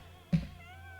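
A single brief, faint meow from a cat comes quickly over a quiet room background, with no speech.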